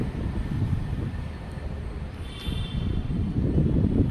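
A steady low rumble of a Hyderabad metro train runs throughout, with a faint high whine appearing briefly midway; no voices.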